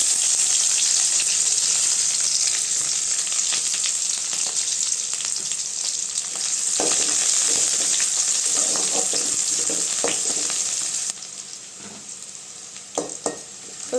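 Onion frying in oil with curry leaves, for a soya chunk gravy, sizzling loudly and steadily with scattered stirring scrapes and clicks, then turning quieter near the end.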